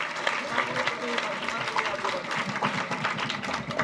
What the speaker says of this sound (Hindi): जोरदार तालियां बजाइए आप।